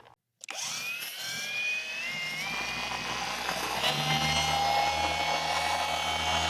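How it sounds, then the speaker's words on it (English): A dual action polisher scrubbing back and forth along the edge of a car panel: a sharp start, then a sustained high whirring motor whine with a shifting pitch as the pad works the surface, loud and steady. "I'm scrubbing the machine like this back and forth as I go along that edge"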